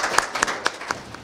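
Hand clapping from an audience at an event center welcoming a guest speaker, a handful of distinct, fairly close claps in an uneven rhythm over a soft background, brief and thin.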